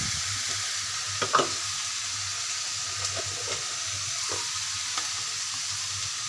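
Bottle gourd and shrimp fry in a pan, a steady close sizzle with occasional scraping clinks of a spoon stirring.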